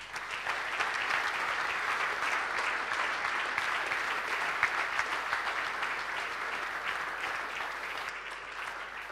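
An audience gives sustained, dense applause as a longtime organizer of the Dudinská 50-ka event arrives on stage. The clapping stays steady and full throughout and fades slightly toward the end.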